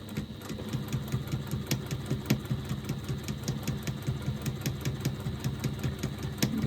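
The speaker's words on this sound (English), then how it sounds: "I'm just back stitching a couple of stitches to make sure that the stitching doesn't unravel." Sewing machine backstitching a few stitches into fabric, a close rapid mechanical chatter with a steady rhythmic pulse and small clicks throughout, no voices.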